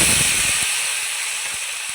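Onion gravy hits hot oil for a mango-kernel curry, giving a loud, steady sizzling hiss with a few sharp pops and crackles scattered through it, close and without talk.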